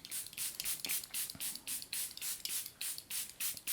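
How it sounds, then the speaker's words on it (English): A Charlotte Tilbury setting spray mists in quick bursts, about a dozen short close-up hissing pumps in a steady rhythm, quiet with no talking. "So I'm going to go in with this Charlotte Tilbury setting spray."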